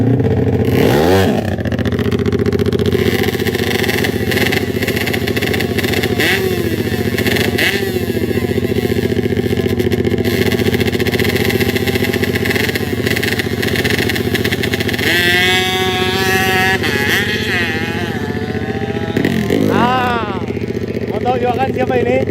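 Drag bike motorcycle engine revving loudly and continuously up close, with rising and falling throttle sweeps over a steady roar while people talk nearby.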